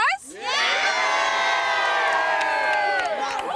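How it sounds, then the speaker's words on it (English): Happy Roosters fans cheer loudly as a crowd at rugby league grand final celebrations, a sustained roar of whoops and shouts that swells after a brief dip and carries on. "a lot of crazy happy fans down here at the moment"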